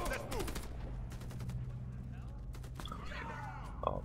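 AC7 SNR rifle fire in the video game Warface, several sharp shots in quick bursts with a faint ring between them, loud and close.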